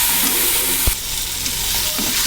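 Roasted black soybeans being stirred into a cooked masala in a pan, a continuous sizzle with scraping stir strokes and a sharp knock near the start.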